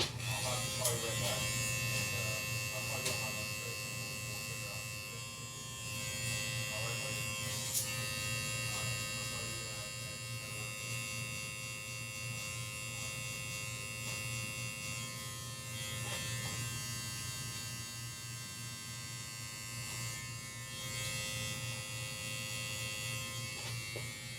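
Electric hair clipper fitted with a vapor blade, trimming fine hair close during a barbershop fade, a steady high buzz running throughout at moderate level.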